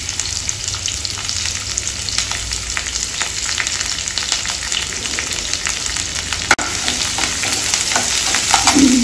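Onion and curry leaves fry in a pan for a healthy Telugu-style lunch, giving a steady broadband sizzle with scattered crackles throughout and one sharp clack near the end.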